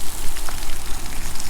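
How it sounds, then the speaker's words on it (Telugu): Heavy monsoon rain pours down during a ride toward Medak, a loud, dense, continuous hiss and patter with no pauses. "అట్లా పడుతుంది వర్షం"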